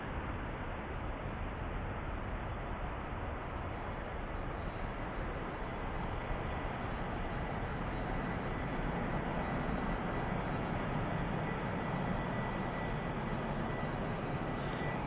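An airliner taking off from Amsterdam Schiphol Airport, heard as a broad, continuous roar of jet engines that holds loud and steady throughout, filling the air with no voices.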